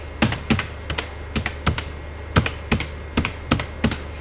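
Keystrokes on a computer keyboard while entering data in an Excel spreadsheet, sharp close taps in small irregular bursts of two or three across the stretch.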